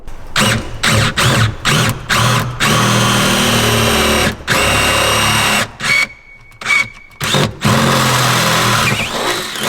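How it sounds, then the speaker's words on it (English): A power drill bores a hole in a car while fitting a K brace, loud whining bursts that start and stop repeatedly, with short pauses between runs and a squeal near the end. "now the hole has been drilled"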